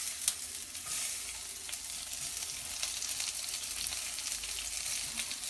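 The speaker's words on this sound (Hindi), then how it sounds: "and now I am going to put my onions in their" Hand-broken onions frying in hot oil, a dense, steady hissing sizzle held close and even throughout, with faint stirring underneath.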